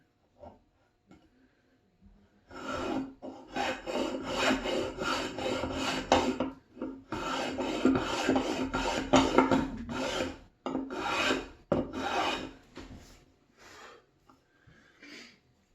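Old block plane iron rubbed back and forth on a sharpening stone in steady rasping strokes, close and fairly loud, in bursts separated by short pauses, with no talking.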